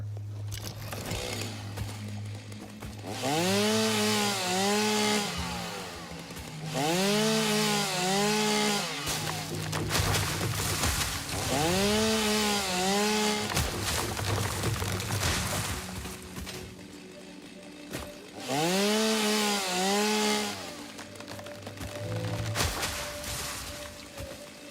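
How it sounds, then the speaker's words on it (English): A chainsaw cutting down trees in the factory-building video game Satisfactory, buzzing in four long revving bursts with rising and falling pitch, loud and close, separated by short pauses. "What's my chainsaw at?"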